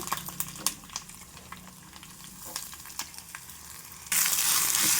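Freshly grated coconut, ground in a mixer, fries in a pan with curry leaves over a high flame. A soft sizzle is broken by scattered stirring clicks, then swells abruptly into a loud, steady hiss for the final second.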